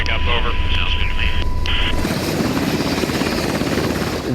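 A helicopter landing in a field zone for a patient pickup during a medical evacuation in Afghanistan, its rotor and engine noise a loud steady roar that swells after the first two seconds, with radio chatter and talk beneath at the start.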